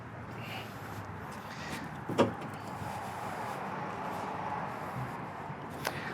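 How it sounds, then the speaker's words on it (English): Someone opens the hood of a 2019 Kenworth T800 truck, making one sharp clunk partway through and a smaller knock near the end over a quiet outdoor hum. "Let's open up the hood and see what kind of stove this truck has."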